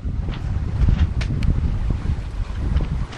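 Wind buffeting a Lagoon 380 catamaran under sail on a flat sea in about 15 knots of breeze, uneven gusty rumbles against the microphone with faint splashes and creaks in between.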